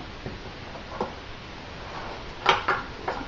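Bran muffin batter with hemp hearts is stirred in a bowl: a soft bed of mixing with a few light utensil clinks against the bowl side, close and quiet.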